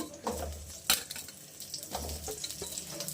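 Chopped onions frying in a spoonful of oil in a pan while a chicken curry is being made: a steady hiss with a few sharp clinks and scrapes of a utensil against the pan, close by, with no talking.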